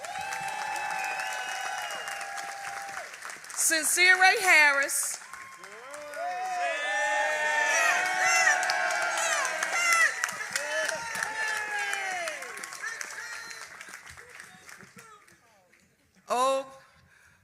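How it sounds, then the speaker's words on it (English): Crowd at an election night victory event for a Philadelphia mayor, with scattered clapping and cheering under a speaker's amplified voice and a short burst of cheers near the end. "Give him a round of applause."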